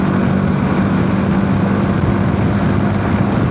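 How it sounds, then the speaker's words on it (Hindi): A TVS Apache RTX 300 motorcycle with a 300cc engine cruising at speed, a loud, steady engine drone mixed with heavy wind rush and no breaks for the whole stretch. "ये एक बड़ी बाइक है, 300 सीसी का इंजन है"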